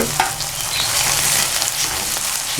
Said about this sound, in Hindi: प्याज को अब करेंगे फ्राई।